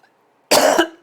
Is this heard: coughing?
yes